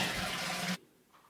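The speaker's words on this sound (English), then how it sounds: "Flush." A school toilet flushes with a loud, close rush of water for about three-quarters of a second, then cuts off abruptly into near silence.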